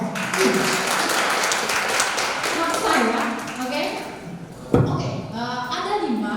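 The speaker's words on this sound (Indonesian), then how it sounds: "Tepuk tangan dong" An audience at a motivational talk claps in a steady broadband patter for several seconds, thinning out as a voice starts talking over the fading applause, with a single sharp thump near the end.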